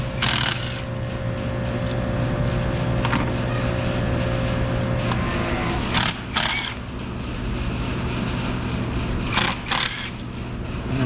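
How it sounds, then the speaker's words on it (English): A T30 Torx bit works out the fuel rail bolts on a Jeep Grand Cherokee engine: close mechanical ratcheting bursts, one near the start and a few more later, over a steady hum and with no talking. "And remove those 4 bolts."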